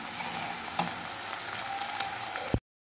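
Steady oil sizzling and crackling from curry leaves frying with onions in a pan, with a sharp clatter near the end before the sound cuts off.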